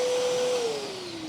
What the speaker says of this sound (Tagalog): Sa kabila, pwede na siyang maging blower.